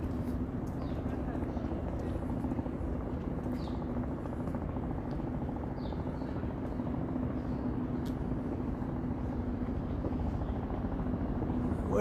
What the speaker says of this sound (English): Where is that chopper?